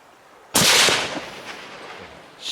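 A single loud rifle gunshot during a deer hunt, a sharp crack with a decaying outdoor echo, standing alone with no talk over it.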